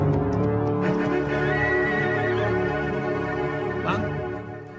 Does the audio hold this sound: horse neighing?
yes